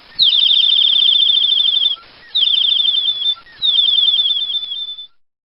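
Three bursts of rapid, high chirping bird tweets, each a fast string of bright repeated notes lasting about a second and a half, separated by short pauses, loud and clean with no background.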